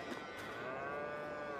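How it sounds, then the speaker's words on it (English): Cows moo in Farming Simulator 22, a long sustained bellow from the herd filling the short stretch under a faint ambient bed, with no talking. "Moo-moos. Girls yelling at me."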